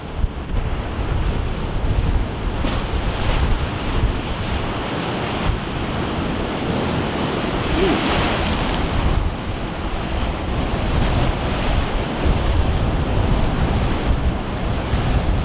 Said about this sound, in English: These waves are very unpredictable though.